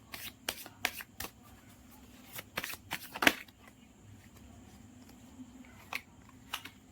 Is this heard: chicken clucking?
no